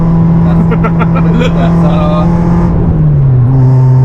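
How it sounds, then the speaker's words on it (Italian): Loud, droning exhaust of a Peugeot 106 Rallye or Citroën Saxo VTS with one muffler removed, at a steady rumble, engine pitch dropping slightly toward the end, close by. "sound più rumorosa della 106, abbiamo un silenziatore in meno"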